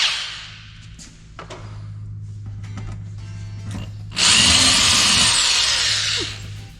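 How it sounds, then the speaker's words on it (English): A power drill bores holes in a metal wing spar: a low hum and scattered clicks give way to loud, steady, close drilling that runs for a couple of seconds and then stops. "If the drill bit ever stops in the metal like that, you need to stop the drill"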